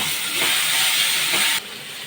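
Papaya, banana, potato and drumstick pieces dropped into hot oil with a bay leaf and green chilli tempering, giving a loud steady hiss of frying that cuts down sharply to a quieter sizzle near the end.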